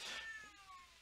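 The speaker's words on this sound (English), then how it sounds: "Cat was just howling like crazy." A cat howls in a single drawn-out, falling meow-like wail, fairly close but moderately quiet, with no speech over it.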